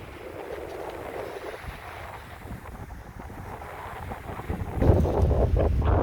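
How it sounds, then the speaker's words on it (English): Gusty outdoor wind buffets the microphone with a steady low rumble, swelling into a louder, heavier gust near the end; no one speaks. "it's getting kind of windy down here"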